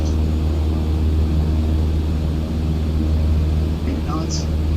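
Jet airliner engines spool up to takeoff thrust in Microsoft Flight Simulator, a loud, steady broadband roar with a deep rumble throughout and no breaks.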